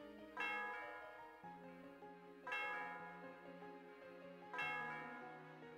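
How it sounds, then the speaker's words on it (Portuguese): Three slow, resonant strikes of a church bell atop Celestial Tower in Pokémon White 2, each ring sustained and decaying before the next, fairly quiet with no talk over them. "tocando esse sino aqui já era"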